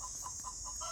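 A chicken clucks repeatedly after laying an egg, a faint rhythmic series of short calls under a steady high hiss of background noise.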